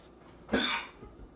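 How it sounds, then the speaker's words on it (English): A single short cough in a quiet kitchen, close and moderately loud, with a faint trailing breath after it. "Cough into your elbow."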